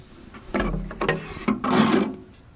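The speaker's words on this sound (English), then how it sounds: "So now the cap right here should just pull right off." A plastic cap being pulled off a candy vending machine after its screws are removed: a few short scraping, rubbing clicks close up, ending in a longer rasping slide as the part comes free.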